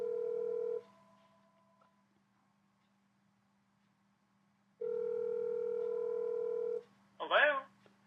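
A Gmail phone call rings out through the computer in two long electronic ring tones separated by a few seconds of silence, followed by a brief voice answering.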